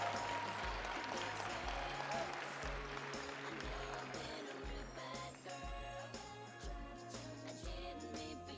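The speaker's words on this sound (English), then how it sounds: "Please give them a round of applause." A crowd applauds senior cheerleaders at a women's college basketball game in a gym, sustained clapping mixed with a blaring music track with a steady beat over it.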